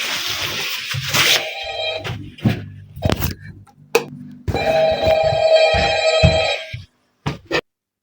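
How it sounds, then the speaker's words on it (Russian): Electronic telephone bell ringing inside a Five Nights at Freddy's-style fan horror game, loud repeated rings in two long bursts with short gaps, followed by a couple of brief chirps, with no one talking. "Телефон."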